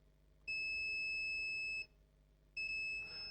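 Two steady high-pitched electronic beeps from a multimeter continuity test on a laptop board coil shorted to ground, each lasting over a second, separated by a short pause, clear and close.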